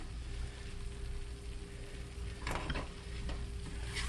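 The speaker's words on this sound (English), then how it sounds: "And I'm going to whisk it some more." Spicy mustard sauce is whisked in a pan on the stove, a soft continuous sizzle with a short burst of quick scraping strokes midway, no talk.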